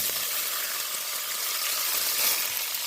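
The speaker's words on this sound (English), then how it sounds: "Now I'm going to get ready to saute my vegetables" Mushrooms and peppers sauteing in a hot pan, a steady close hiss of sizzling vegetables running without a break and with no voices over it.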